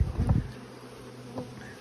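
A dense, low buzzing of many bees, loudest at the very start and then settling into a steady hum.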